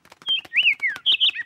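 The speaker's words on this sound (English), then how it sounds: "Ah, yes, that is a sparrow." A cartoon sparrow chirps in a quick run of bright, high tweets and trills, close and clear over a faint patter of clicks, lasting only a moment.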